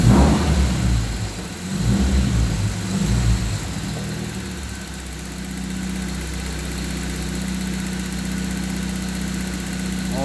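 A car engine revs as the throttle is opened during a diagnostic scan, a loud close rise at the start that settles into a steady idle-like hum and vibration with no talk.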